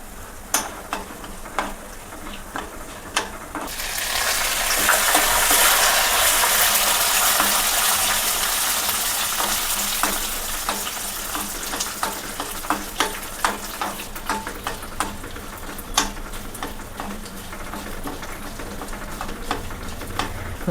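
Peanuts, dried red chillies and curry leaves sizzle loudly in hot oil, the frying swelling into a steady hiss after a few seconds with scattered crackles and pops throughout, no voices.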